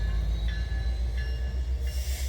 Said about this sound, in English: it's the annual CPKC Holiday Train